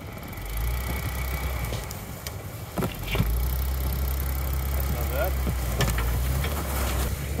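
An off-road vehicle creeps over a fallen tree on a snowy mountain trail, its engine a steady close rumble with thumps and creaks around the three-second mark as it climbs the log, with voices talking over it.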